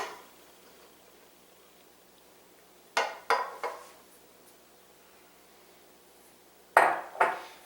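Dry ingredients are mixed into molasses cookie batter in a bowl, heard as two short clusters of clinking, scraping utensil strikes against the bowl separated by near silence, close and with no talking.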